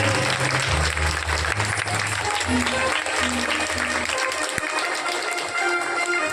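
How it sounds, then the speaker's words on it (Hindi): Loud, sustained audience applause at a Bhagavat Katha gathering, a dense wash of clapping running steadily throughout, with low tonal music or drone underneath. "आप सभी से आगे कि जोरदार तालियां बजा करके इनका सम्मान करें"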